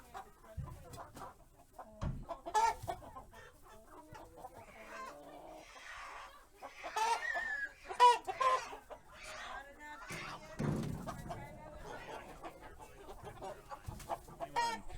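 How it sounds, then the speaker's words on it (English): Freedom Ranger meat chickens being loaded from pasture tractors into a trailer cluck and squawk in a busy, overlapping chorus, with bursts of louder calls and occasional handling thumps. "Just loaded the last tractor of Freedom Ranger chickens from the Freedom Ranger hatchery"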